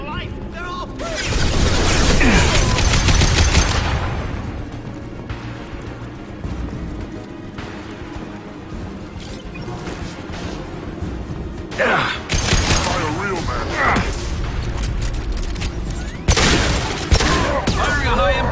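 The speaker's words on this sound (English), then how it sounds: "Firing a high-impact shot!" Gunfire from high-impact shots in the video game Mass Effect, with loud booming bursts and rattling volleys over a busy battle mix, and a voice speaking amid the shooting.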